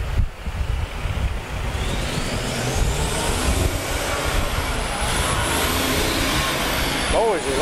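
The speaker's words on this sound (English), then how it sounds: "Boys, a lot of traffic." Busy Saturday street traffic in Mount Pleasant, North Carolina: a continuous roar of passing cars and trucks, with a vehicle swelling close by, and someone talking briefly over the noise.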